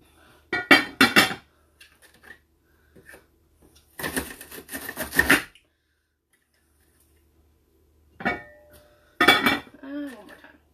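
Knife quick slicing green peppers on a board for fajitas, rapid bursts of chopping taps in short clusters separated by quiet pauses, close up, with a voice speaking briefly near the end.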